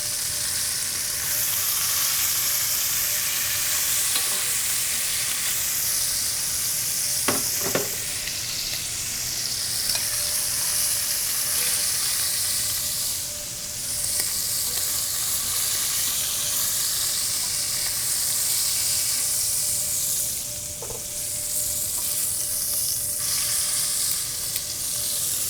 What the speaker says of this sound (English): Creating a depth of flavor by browning off your meats.